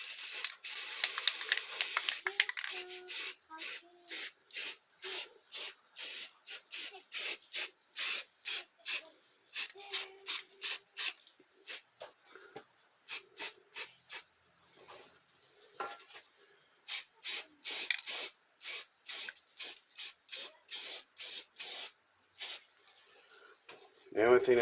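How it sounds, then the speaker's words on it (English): Repeated short bursts of black primer sprayed from a clogging aerosol can nozzle while restoring heater tubes on a Chevrolet C4 Corvette in a garage, dozens of quick hissing pulses in a steady rhythm, close and fairly loud. "Now I'm using a black primer because I'm going to use black paint."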